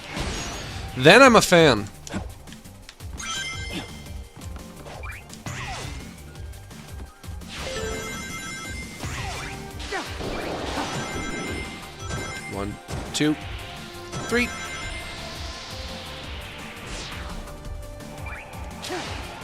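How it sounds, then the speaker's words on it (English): Stained glass windows shatter as Shadow the Hedgehog smashes through them in Shadow Generations, with a loud crash early on followed by whooshes, thuds and game effects, and someone talking over the action. "I like Shadow the Hedgehog when he's breaking stained glass windows."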